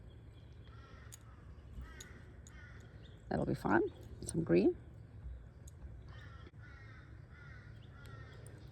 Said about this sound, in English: Remember we had the discussion about the crows? Well, I can hear them in the background.